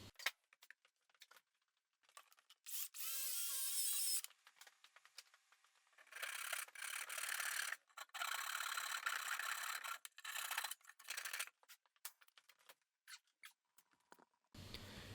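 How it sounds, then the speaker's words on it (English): A small Japanese hand saw cuts through an enclosure panel for a CNC machine, giving loud raspy strokes in bursts with short pauses between them, alone with no talk. "I'm using my little Japanese saw to get this thing cut."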